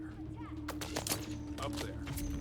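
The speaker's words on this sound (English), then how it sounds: "Who was shooting me from where?" Several sharp gunshots from Dune: Awakening gameplay crack out in quick irregular bursts over a steady droning game background, moderately loud and fairly close.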